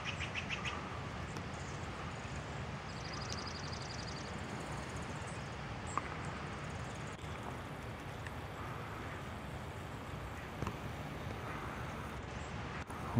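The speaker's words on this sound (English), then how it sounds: "The birds are all back, the robins are back." Birds chirping and tweeting outdoors at a distance, scattered calls over a steady wash of background noise and faint traffic.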